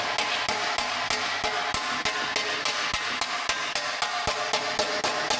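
Steady hammering on steel while shaping a body panel against a table edge, about a dozen sharp metallic strikes at a regular beat, loud and close with no talk.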